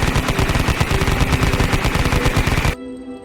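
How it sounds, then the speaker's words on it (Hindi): Rapid machine-gun fire rattles as a sound effect, a dense, loud burst of shots that stops abruptly with a short echo trailing off. "फिर गोलियां चली"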